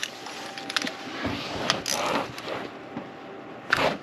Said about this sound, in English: This is a spark plug socket.